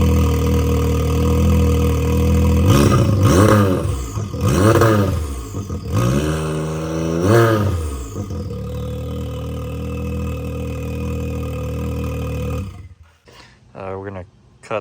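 A farm-use vehicle with its header cut and new mufflers fitted runs loudly close by, its engine roaring and revving in repeated surges before dropping off near the end.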